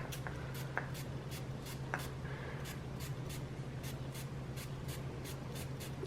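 Sweet Like Candy perfume sprayed into a bowl with soap, giving a fast series of short, crisp spritzes over a steady low hum, with a couple of faint taps early on.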